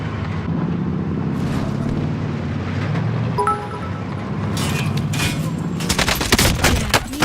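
Rapid bursts of AK-74u automatic fire in Call of Duty Warzone, crackling volleys that grow denser and louder toward the end over a steady vehicle engine drone.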